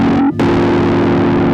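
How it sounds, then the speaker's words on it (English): A Hologram Chroma Console multi-effects pedal gives a buzzing, distorted tone that cuts out for a moment and then returns as a sustained, gritty drone. "you still have that distortion"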